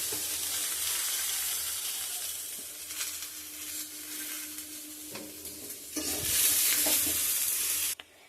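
Water is poured into a hot pan of frying curry in a home kitchen, setting off a steady, close hiss and sizzle that swells in the last seconds before cutting off abruptly.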